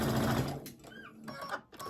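A sewing machine stitches quilt panels together in short runs, its close mechanical whirring rising and pausing over two seconds, with no talking.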